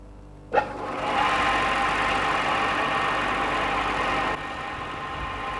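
A Bofors warhead spins in a rotating test rig angled at 30 degrees, giving a loud, steady whirring drone that starts with a sharp knock, holds for several seconds, then drops to a lower hum.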